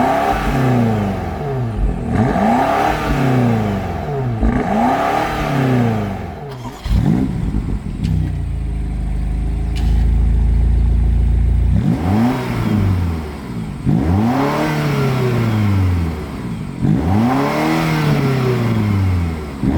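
A BMW X5M/X6M 4.4 litre V8 is revved repeatedly, several sharp rising blips with bursts of exhaust bark, then a lower steady idle before more hard revs, loud and close with no talking.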